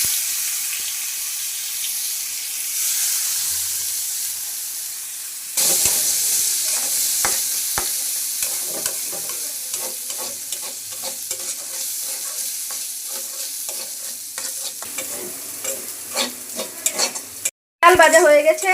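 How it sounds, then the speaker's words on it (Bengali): Gobindobhog rice grains frying in a pan, a steady hiss that turns into rhythmic scraping and rattling as a spatula stirs the grains, close and fairly loud with no talk. "এখন চালগুলোকেও ভেজে নেব।"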